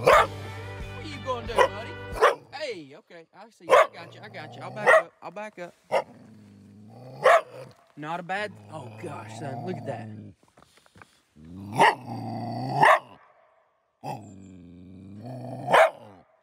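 A trapped coyote growls and yips in short, close bursts between stretches of someone talking nearby, the snarls rising and falling in pitch with whimpering edges.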